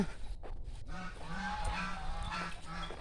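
A goose honks repeatedly in a rural Thai village backyard, a series of nasal calls fairly close by over a steady background of outdoor ambience.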